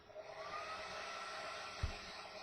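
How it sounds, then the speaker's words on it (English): A hair dryer blows steadily on Tamiya acrylic paint, a continuous whirring hiss held under a table, swelling slightly as it is waved back and forth, with a brief thump near the end. "All we're doing is just waving the hair dryer back and forth just to dry up this acrylic"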